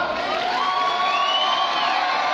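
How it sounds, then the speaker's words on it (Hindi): A live comedy-show audience cheers and whoops without letup, a steady wash of crowd noise with high shouts rising above it, loud and close throughout. "तालियां हो जाए यार।"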